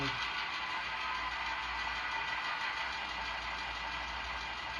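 A simulated diesel locomotive engine running in throttle notch 1 on a model switching layout, a steady dense mechanical drone with a low rumble, unchanging and continuous throughout.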